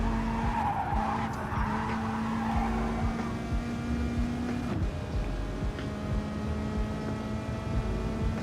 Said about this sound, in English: We'll watch TMKR go around the track in the Atenza.